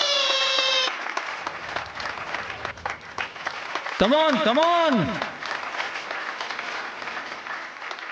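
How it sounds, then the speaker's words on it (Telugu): Audience clapping at the start of a contest, a steady patter of applause under loud talk, with a brief rising-and-falling musical sound effect midway. "క్లాప్, చప్పట్లు"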